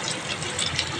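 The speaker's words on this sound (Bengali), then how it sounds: "এবার আমি জল দিয়ে দেবো।" Water pours steadily into a pan of hilsa fish curry, a continuous close splashing gush with no break for the whole brief moment.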